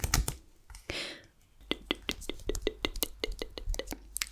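Sticky little strip of duct tape being handled up close, giving a rapid run of sharp crackling peels and taps with a brief rustle near the start, against a quiet low hum.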